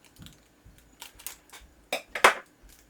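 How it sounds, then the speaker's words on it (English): Kapton tape being cut with scissors while a 12S2P electric skateboard battery pack is assembled, a few short crisp snips and clicks, the last two louder and closer, with quiet handling sounds between. "I'm going to actually cut this so I can use this kapton tape"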